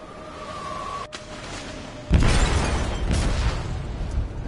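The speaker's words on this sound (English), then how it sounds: "They detonated an explosive in the hole." A loud, close explosion in a ship's hold in the video game Detroit hits suddenly with a broad blast. A rumbling, debris-filled roar follows and slowly fades, after a quieter tone-laden stretch.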